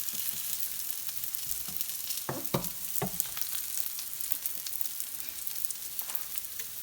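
Black bean and lentil burger patties fry in a pan of oil, a steady close sizzle with a few louder crackles and pops near the start, no voices.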